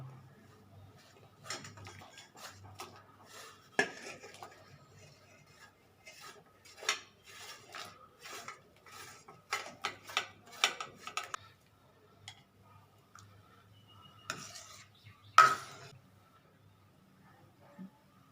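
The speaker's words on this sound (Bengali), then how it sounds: "এইবার এটাকে আমি একটু নাড়া দিই" A utensil stirs milk puli pitha in a pot, producing intermittent light clinks and scraping taps against the pot, irregular and close.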